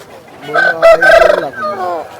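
A single loud crow comes from an 18‑month‑old rooster weighing about five kilograms at the Sunday chicken market in Vijayawada, rising and wavering close by over low background murmur.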